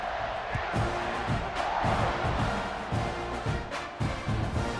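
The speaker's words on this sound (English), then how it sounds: "this crowd now ready to get behind them" Stadium crowd at a college football game roars steadily before a kickoff, a broad sustained wash of cheering with some rhythmic thumps and claps, heard at a distance.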